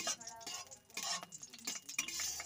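About two spoonfuls of ghee melt in a pan for sandesh, a metal spatula scraping and stirring in quick, uneven strokes with a soft sizzle beneath, close and fairly quiet.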